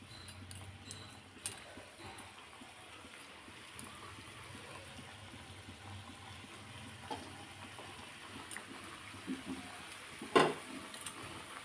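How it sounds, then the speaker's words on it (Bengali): Thekua dough fries in hot oil in a pan, giving a faint, continuous low sizzle with occasional soft clinks of a utensil near the end. "তেল প্রায় গরম হয়ে গিয়েছে, দেখো এরকম কম স্টিমেই ভাজতে হবে"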